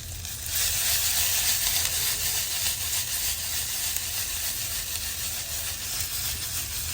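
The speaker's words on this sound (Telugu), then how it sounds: "ఇప్పుడు కరివేపాకు కొంచెం యాడ్ చేస్తున్నాను" Ivy gourd fries with curry leaves in a pan, a loud, dense crackling sizzle that jumps up after a quiet start and holds steady with faint stirring, no voices.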